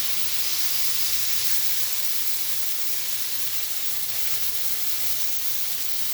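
Chicken shawarma sizzles in a hot pan, a steady, close, bright hiss that holds evenly without pause.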